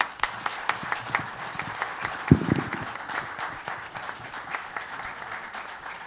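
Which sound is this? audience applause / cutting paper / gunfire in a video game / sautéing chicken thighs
audience applause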